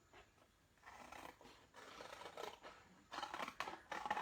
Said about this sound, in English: My old scissors.